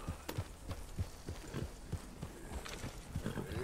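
Horse in the Red Dead Redemption 2 video game, steady soft clip-clop hoofbeats in an even rhythm over a low ambient hum, fairly faint and with no speech.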